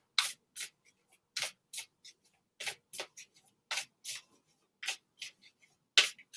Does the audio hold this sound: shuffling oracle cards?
yes